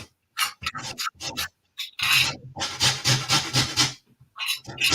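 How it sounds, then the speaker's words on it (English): Lime peel is rubbed across a small kitchen grater while zesting limes for a Thai red curry, producing short rasping scrapes in quick bursts followed by a longer run of steady back-and-forth grating, close and fairly loud. "So what we're going to do with the limes is we're going to take the zest off."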